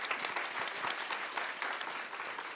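Steady audience applause at a corporate leadership talk on stage, dense and continuous clapping filling the room for the whole stretch with no voices over it.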